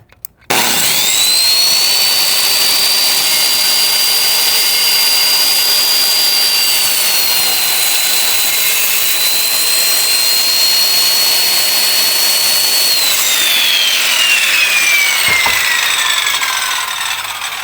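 Power saw ripping and shaving down a wooden board for a basement stair landing, a loud continuous high whine that holds steady for most of the cut, then drops in pitch and winds down near the end.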